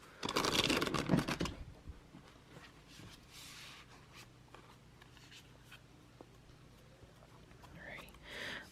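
Tarot cards shuffled quickly by hand for a full moon reading, a dense burst of riffling near the start, then fainter scattered card flicks and taps over a quiet room.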